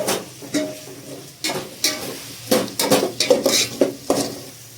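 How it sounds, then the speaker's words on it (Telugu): A spoon scrapes and knocks repeatedly inside a cooking pot as mint leaves are mixed into a raw mango pulao. The sharp metallic clinks come in an uneven rhythm, close and clear, over a faint low sizzle. "ఇప్పుడు మనం ఇది ఫుల్గా మిక్స్ చేసేద్దాము"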